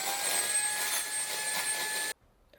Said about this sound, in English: then I'm going to start whisking the whites